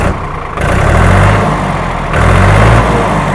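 A New Holland 3600 tractor engine just after starting, running loud and close with a deep, steady idling rumble that swells twice as the revs briefly rise.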